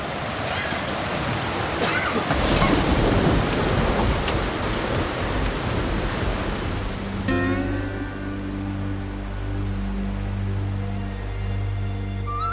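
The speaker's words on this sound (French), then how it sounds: "La pluie tombait à torrents et les coups de tonnerre résonnaient en écho dans le canyon" Heavy rain pours in the Grand Canyon with a deep low rumble of thunder echoing, then gives way to sustained, droning musical tones.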